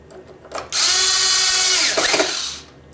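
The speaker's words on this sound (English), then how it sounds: "we're going to go ahead and screw a few of the screws in there" Power screwdriver driving a screw into a double-board hoverboard during repair, one continuous loud whirring burst of about a second and a half, closing with ratcheting clicks as the screw seats, with no talk.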